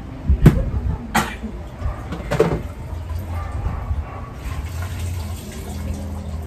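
Soaked Adidas shorts are wrung out, giving a few sharp wet squelches and splatters in the first seconds, followed by quieter dripping and trickling water.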